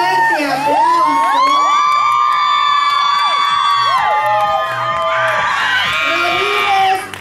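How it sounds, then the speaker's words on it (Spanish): A loud crowd cheers and whoops at a men's professional pole championship, high shouts and yells rising and overlapping continuously in a big, echoing hall. "recibimos con un fuerte aplauso"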